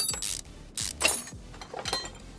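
Car parts being unbolted in Car Mechanic Simulator 2021 on a Nissan Fairlady: four quick ratcheting whirs of a wrench, each a short burst followed by a clunk, spaced evenly and close up.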